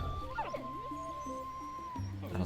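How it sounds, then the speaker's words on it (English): Puppies in the video game Roots of Pacha let out a few high, rising whimpers and yips near the start, followed by sustained, steady tonal notes that ring on quietly in the background. "Let us pet the puppies."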